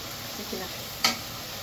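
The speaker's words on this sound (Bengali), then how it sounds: "এখন একটু আদা রসুন বাটা আছে আদা রসুন বাটাটাও দিয়ে দেবো হলুদের গুঁড়া" Ginger-garlic paste and turmeric powder sizzling in a pan while being stirred, for a Bengali chicken kosha; a brief steady fry with one sharp utensil clink partway through.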